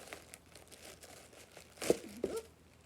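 Crinkly paper filler being handled in a Halloween box, faint rustling that swells into a couple of sharper crinkles near the end, close and quiet with no talking.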